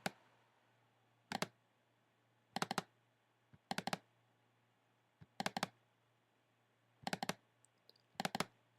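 Computer mouse clicks during a software test come in six quick clusters of two to four sharp ticks, separated by quiet pauses, faint and close in a silent room.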